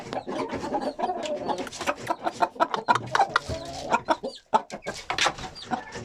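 Young turkey poults calling close by, a busy stream of short chirps and peeps repeating almost without pause, with a brief lull just before the end.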